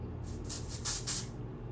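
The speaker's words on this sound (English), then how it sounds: "Let me spray this away from my coffee." A makeup setting spray fires several quick hissing bursts close by, two louder puffs in the middle, followed by quiet.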